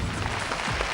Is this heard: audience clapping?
yes